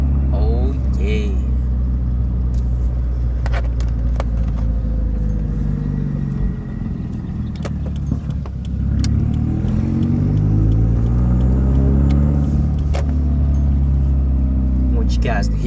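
A car fitted with a Grimmspeed catted J-pipe and a cat-back exhaust rumbles deep and loud from inside the cabin, with the engine revving up and down in rising and falling sweeps. Voices talk over the exhaust.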